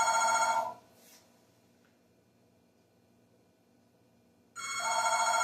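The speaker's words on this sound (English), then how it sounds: "That's the phone ringing." A telephone rings loudly, one ring at the start and another near the end, separated by several seconds of quiet.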